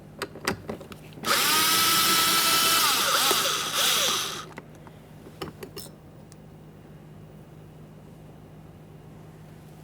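A power tool runs in one loud, close burst of about three seconds, driving a 10mm mounting bolt on a 2009-2014 Nissan Maxima front door, followed by a few light clicks and quiet.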